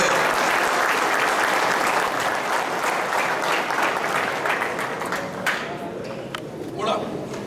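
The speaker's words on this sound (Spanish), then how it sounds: "¡Fuerte el aplauso, señoras y señores!" Loud, dense applause from a seminar audience on sustainable agriculture, strong at first and then thinning toward the end, with some voices mixed in.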